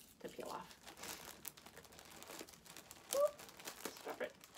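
Crinkly plastic being peeled off an item from an attic clear-out, a few close tearing and crackling bursts with one sharper rip near the end, under soft talk.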